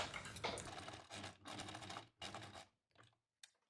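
A sewing machine stitches linen fabric in short, quiet bursts of back-and-forth stitching, several rattling runs separated by brief pauses, trailing off into sparse taps.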